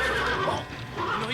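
A cartoon horse lets out a short, bright whinny that rises and falls, loud and close, with no talking.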